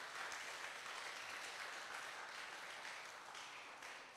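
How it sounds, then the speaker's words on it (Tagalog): A church congregation applauding during a Sunday worship service, a continuous, even crowd of clapping heard at a distance and sustained for several seconds with a slight taper at the end. "Palakpak nga muli sa Panginoon"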